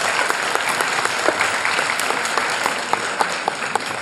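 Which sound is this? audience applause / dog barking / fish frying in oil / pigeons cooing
audience applause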